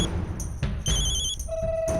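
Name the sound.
phone ringing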